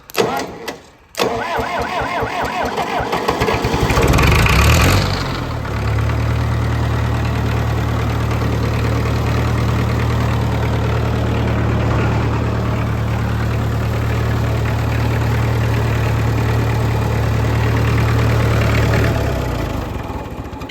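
A John Deere 2010 traxcavator diesel engine cranks briefly, catches and revs up, then settles into a loud, steady, even idle that runs for over fifteen seconds with no one speaking.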